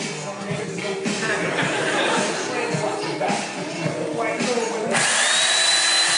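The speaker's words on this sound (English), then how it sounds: "The instructor puts his foot on the desk to hold down a metal case and presses the chainsaw to it." A chainsaw pressed against a metal case in a classroom: a loud, continuous buzzing drone that wavers as the blade bears down, rising to a higher, steadier whine near the end, with voices faintly underneath.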